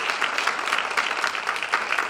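Audience applause at a school district forum on equity and educational initiatives in Hoover City Schools, a steady dense wash of clapping from a sizable crowd, fairly loud and continuous throughout with no talk over it.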